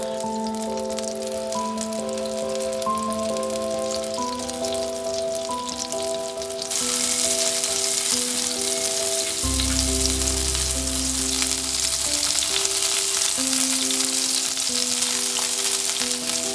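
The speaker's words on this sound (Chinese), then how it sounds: "融化后放入刚刚准备好的蒜泥蘑菇，小火慢慢的煎3到5分钟。" Garlic mushrooms fry in melted butter in a flat pan over low heat, giving a steady close sizzle that swells louder partway through, with background music playing throughout.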